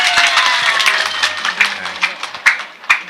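A crowd at a Ramadan religious gathering claps, first in a dense wash with a faint tonal hum underneath, then thinning into a few louder, separate claps near the end.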